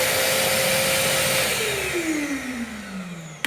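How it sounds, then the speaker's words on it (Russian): A construction vacuum cleaner fitted with a homemade cyclone separator runs steadily and loudly, its motor whine sliding gradually lower in pitch as the load changes, with no talk over it. "И все, что пылесосится, попадает в ведро, а потом выкидывается."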